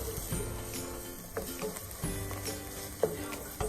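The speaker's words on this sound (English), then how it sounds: "And we're going to keep sauteing until it's golden brown." Onions sautéing in butter in a pan for lentil soup give a soft, steady sizzle close by, broken by a few light stirring scrapes and clicks.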